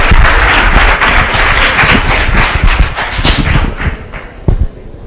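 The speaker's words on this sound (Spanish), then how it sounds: "Un aplauso, por favor, a Bernardo." A seated audience at a talk on science and pseudoscience gives a speaker a loud, dense round of applause that thins into scattered claps and fades near the end.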